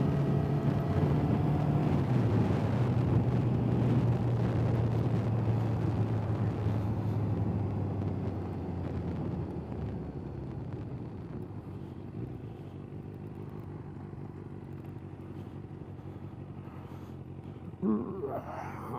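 A Kawasaki ZX6R motorcycle being ridden on a bumpy road, a steady engine drone with a held pitch that eases off partway through, mixed with road and wind rumble and a brief clatter near the end.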